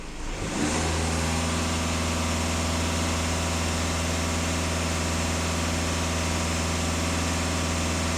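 A Volkswagen Passat 2.0 TDI diesel engine starts from quiet and holds a steady raised speed of about 2500 rpm, a loud, even drone with strong low harmonics that stays constant for several seconds with no talking.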